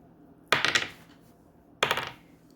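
A die clatters across a hard surface twice, each roll a short burst of rattling clicks that quickly settles, with quiet gaps between the two tosses.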